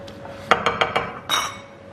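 A spoon works a wet spinach ball mixture around a bowl, giving four or five sharp, close clinks in quick succession, then a brief scraping swirl that fades out.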